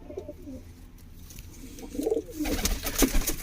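Pigeons coo nearby at a pigeon loft in low, throaty burbling phrases, a couple of rolling calls standing out, with a dull background rumble and some handling noise.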